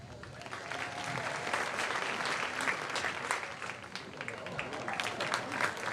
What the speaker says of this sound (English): Give Gene Elder a round of applause.